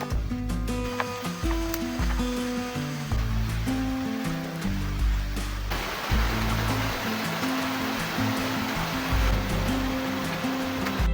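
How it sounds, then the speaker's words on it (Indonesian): A river flows through a forest with a constant rushing wash of water, heard beneath prominent background music with a steady low rhythm throughout. "saya akan mengikuti aliran sungai"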